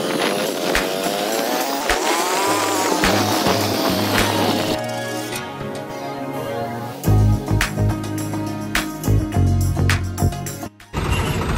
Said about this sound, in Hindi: अभी चलते हैं बाइक को ऑन करके फटाफट